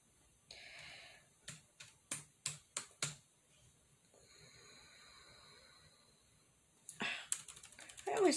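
Quick keystrokes on a computer keyboard, about seven sharp taps in a row, then a short quiet stretch before a final busy flurry of typing, recorded close and fairly quiet.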